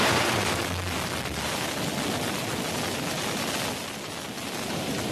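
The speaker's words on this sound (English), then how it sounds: "And liftoff." A Blue Origin New Shepard rocket lifts off with a dense, continuous broadband roar, loud and crackling at the start, then holding as a steady rumbling rush.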